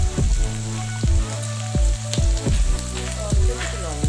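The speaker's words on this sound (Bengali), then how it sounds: "নেড়েচেড়ে একদম মিডিয়াম আঁচে ভাজবো" Ingredients for a shrimp and potato curry fry in a pan over medium heat, giving a constant close sizzle broken by repeated clattering bursts as the pan is stirred.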